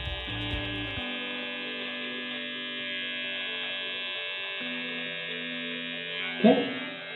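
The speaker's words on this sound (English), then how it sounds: "these intricate areas can be done with this little smaller mouth trimmer" A small electric beard trimmer running, giving a steady, close, even buzz that holds throughout with a brief bump near the end.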